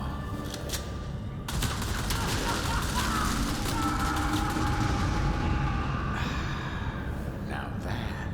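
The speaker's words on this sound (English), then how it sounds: "Breaker assault shotgun." Breaker assault shotgun firing in Helldivers 2, a rapid run of loud blasts and crackling impacts over dense battle noise and explosions, continuous throughout with a voice talking underneath.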